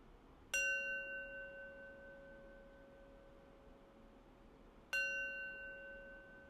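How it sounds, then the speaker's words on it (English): Two separate strikes of a meditation bell ringing to close a practice session, each a clear bright onset followed by a long sustained, slowly fading tone with steady harmonics, heard alone over a quiet background. "I'll close practice with 3 rings of the bell"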